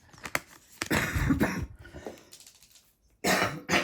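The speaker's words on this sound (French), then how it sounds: "je tousse toujours" Several sharp coughs and throat-clearing bursts, close and fairly loud, with short pauses between them and a final cluster at the end.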